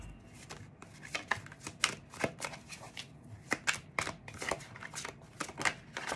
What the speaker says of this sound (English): If I could shuffle, that would be fantastic.